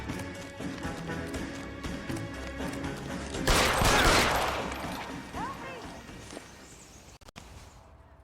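Gunfire in the video game L.A. Noire: a loud burst of shots erupts partway through over a tense game score, then fades into a quieter tail, with little talk.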